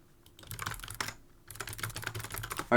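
Rapid typing on a computer keyboard while playing Club Penguin, with dense close clicking in two bursts split by a short pause and a louder knock at the end.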